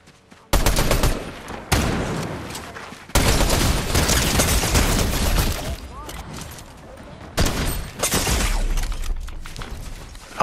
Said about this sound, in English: Because we're getting shot at from another direction too.